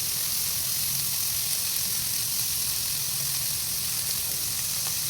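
Ginger paste frying in hot oil for a black-eyed pea curry, giving a steady, loud, continuous sizzle with no voices over it.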